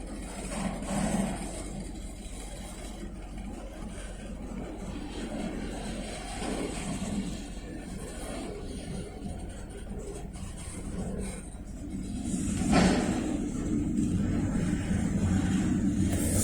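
A fixed-wing airplane drones overhead near a railway line as a train starts up again, a steady broad engine rumble that swells slightly around the middle and holds fairly loud throughout, with no talking.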